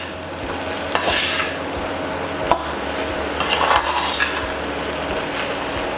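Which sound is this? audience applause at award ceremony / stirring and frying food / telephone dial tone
stirring and frying food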